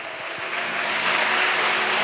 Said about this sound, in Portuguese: Aplaude a Jesus.